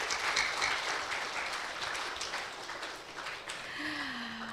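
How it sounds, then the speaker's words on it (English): A conference audience applauds a keynote speaker with steady, fairly distant clapping that fades slightly before a faint tone enters near the end. "Please give a big applause for him"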